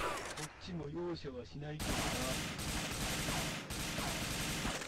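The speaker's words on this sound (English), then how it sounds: "Dude took out an AK-47 and did like -5 damage, bro." AK-47 fire in a video game, a dense, loud run of rapid shots after a short stretch where a voice talks near the start.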